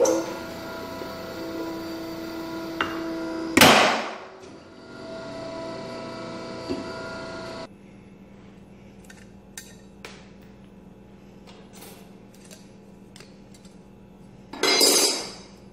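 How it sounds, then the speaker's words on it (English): A hydraulic press punches a hammer-textured metal blank with a pancake die in a jewelry workshop: sharp loud metallic clanks and bursts stand out against a steady electrical hum, with quieter clicks and taps in between. "Now I'm going to go punch it out in the hydraulic press."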